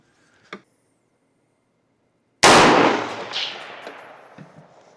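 A rifle shot fires once, loud and sharp, followed by a ringing, decaying tail as it strikes a steel target at a ranch range; a faint click is heard beforehand.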